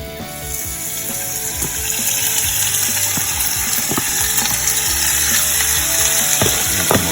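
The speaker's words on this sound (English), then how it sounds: "I'm gonna go ahead and drop this down in the oil." Cajun chicken sizzles loudly after dropping into hot oil on a stovetop, a steady crackling fry with occasional pops and spatters that holds throughout.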